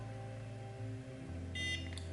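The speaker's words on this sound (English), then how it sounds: "Hear the beep, then you move on to the next one." Short high electronic beeps from a NuFace Trinity facial toning device chirp near the end, over a steady low hum; a couple of brief tones, close and fairly faint.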